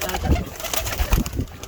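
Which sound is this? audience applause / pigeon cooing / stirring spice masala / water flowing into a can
pigeon cooing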